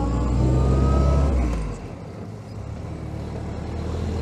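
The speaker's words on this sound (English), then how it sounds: "We should go for second gear." A 1943 Willys MB Jeep engine droning loud and low, then dropping off sharply midway as it shifts into second gear before the engine note builds again.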